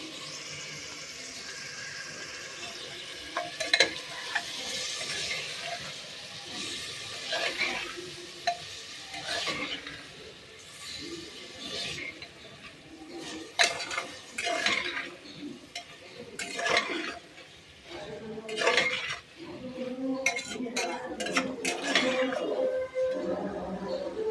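Boiled chickpeas are stirred and fried in a pan, with intermittent clattering scrapes of a spoon against metal over a soft sizzle, quiet between strokes.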